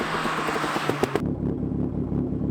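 A tuned Ford car at the Ford Fest meet at Mallory Park lets out a brief turbo whiffle and flutter. A chattering burst cuts off abruptly, then a lower engine burble continues close by. No voices are heard.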